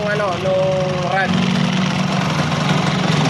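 Kawasaki AR80 motorcycle engine test-fired after a rod replacement, idling with a steady buzzing drone close by, with someone talking over it at the start.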